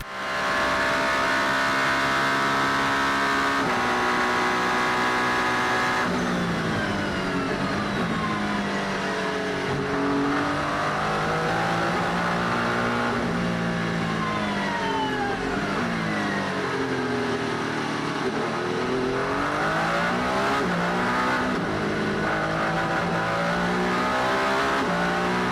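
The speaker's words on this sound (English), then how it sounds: "I heard the engine of this Toyota hypercar." A Toyota hypercar at the Le Mans endurance race screams through continuous loud, high-revving engine notes, rising and falling in pitch as it shifts gears and sweeps past.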